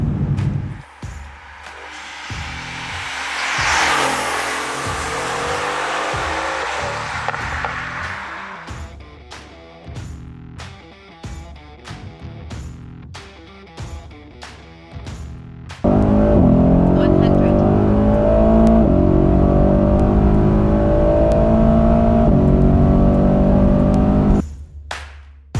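A tuned 2020 Mercedes-AMG GT S revs hard and climbs through the gears on the Autobahn, with brief gaps between shifts, then settles into a loud, steady high-speed drone.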